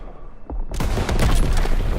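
Call of Duty WW2 game combat as ammo depots are blown up, a quiet lead-in giving way to a loud burst of gunfire and rumbling booms that keep rolling densely to the end.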